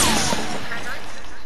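A sniper rifle shot in Fortnite, one sharp loud crack at the start that trails off into a rumbling echo, with no talk over it.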